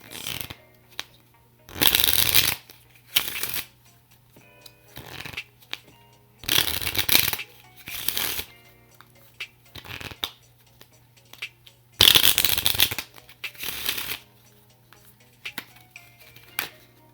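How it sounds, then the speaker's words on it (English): Playing cards being shuffled close by in several separate bursts of rapid riffling and flicking, with quiet handling noises between them. "Let's take a look at the playing cards."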